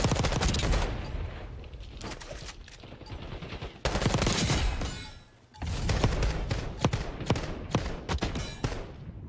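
Bursts of SMG fire from the Call of Duty Black Ops game come in rapid, loud volleys with brief pauses between them, punchy and close, with no voices over them.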